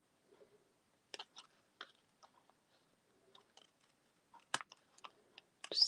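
A few quiet, crisp snips and clicks of long scissors cutting paper, scattered across several seconds, close up, with short pauses between cuts and no talking.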